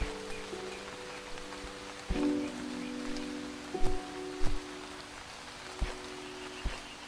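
Steady rain falls in the Starbound video game, a soft constant hiss under low tonal game sounds, with several sharp thuds and clicks scattered through it and no voices.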